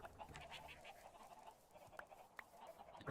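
Chickens clucking on a farm in the game Gardenfell, soft scattered clucks and short calls over a faint ambient background, quiet and a little distant, with no voices.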